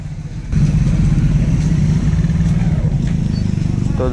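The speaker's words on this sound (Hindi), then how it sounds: "देखते हैं बाइक निकालते हैं पहले।" A motorcycle, its engine having scraped the ground, is ridden out over rough ground at a bridge construction site; a steady, loud mid-pitched engine drone with slight throttle variation kicks in after a brief quieter start and runs continuously.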